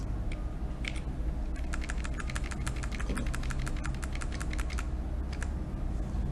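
Rapid, steady keystrokes clatter on a computer keyboard as C++ code is deleted. The typing is close and continuous, with a quick run of evenly spaced clicks in the middle and no talking.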